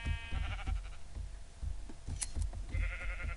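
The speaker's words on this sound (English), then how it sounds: "I've run into a flock of sheep." Sheep bleat in the Minecraft video game, several short wavering cries from a flock overlapping with soft footstep-like thumps and a few sharp clicks.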